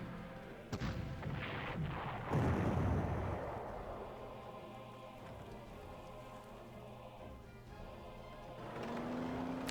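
Artillery fire in the wartime strategy game Panzer Corps: a couple of booming blasts followed by a long rumbling, crackling decay like distant shelling, steady and fairly quiet, with no talking.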